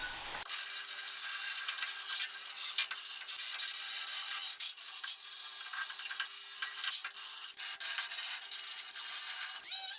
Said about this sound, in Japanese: これはワイヤーブラシ使って剥がしていきたいと思います。